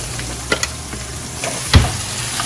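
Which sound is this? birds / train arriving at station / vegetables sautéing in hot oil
vegetables sautéing in hot oil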